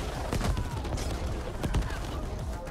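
Rapid gunfire from a weapon in The Ascent video game, a dense burst of sharp repeated shots over busy game sounds, loud and close throughout.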